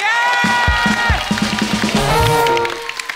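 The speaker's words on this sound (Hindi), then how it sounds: "जोरदार तालियां हो जाए पतियों के लिए" On a TV comedy show, a studio audience cheers and applauds for husbands. The crowd noise comes in under music with a rhythmic beat and continues loudly, with scattered claps through the stretch.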